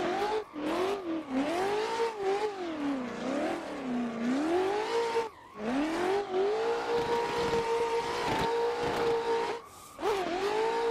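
A race car drifts in a sim racing game, its engine revving in rising and falling sweeps with brief cuts between throttle bursts, steady and prominent throughout.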